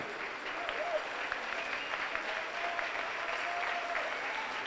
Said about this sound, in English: Let's have a great round of applause for your semifinalists once again